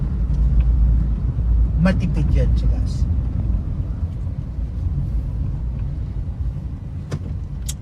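A Toyota Wigo's engine drones low and steady while the car is driving, a continuous rumble sitting under a person talking throughout.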